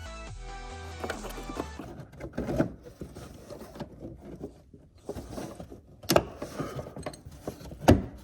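A plastic fender liner hole cover on a 2024 Ford Mustang snaps into place, giving a few sharp, close clicks and pops spaced over several seconds, with faint handling noise between them.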